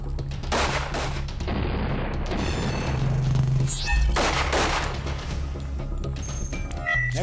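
.45 caliber rounds, 230 grain at about 900 feet per second, fired at a bulletproof armored vehicle, several sharp reports in quick succession with ringing metallic impacts and reverberation.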